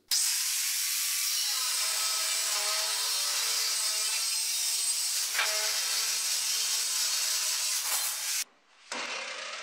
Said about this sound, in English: This is a dedicated metal cutting chop saw that is considerably older than myself, and it runs at much lower RPM than a miter saw for woodworking.